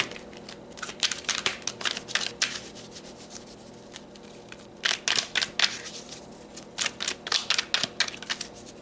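Tarot cards shuffled for a reading, bursts of crisp riffling and flicking clatter in several quick runs separated by short pauses, close and fairly quiet.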